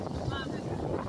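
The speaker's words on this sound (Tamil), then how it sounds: "காற்று கொஞ்சம் அதிகமாக இருக்குது." Strong wind at the seaside roars across the microphone in a continuous, loud, gusting rush, with no breaks.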